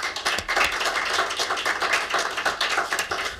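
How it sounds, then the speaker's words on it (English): Applause at a city council and county district candidate forum, a small audience clapping briskly in uneven bursts, fairly close and clear with no talk over it. "Please join me in a round of applause for Mr."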